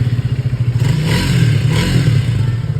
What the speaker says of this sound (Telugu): exhaust note okay for 400cc engine